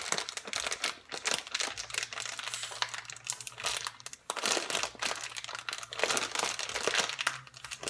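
Close, continuous crinkling and crumpling of a puffed-up plastic packet of walnuts being handled and pulled open, with sharp rustles throughout and no talking.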